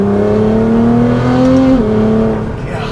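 A 700 HP Nissan GT-R R35 driving, its engine giving a loud steady droning hum with a smooth whine that climbs slightly in pitch and then drops as it eases off, heard from inside the car.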